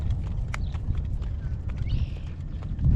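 Horses walk along a road in gale-force wind, hooves clip-clopping in a loose, irregular rhythm under a heavy low rumble of wind.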